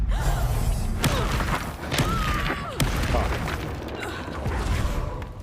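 A Confringo blasting spell explodes in Hogwarts Legacy combat, with repeated booming bursts and thuds over dense game noise while a voice shouts.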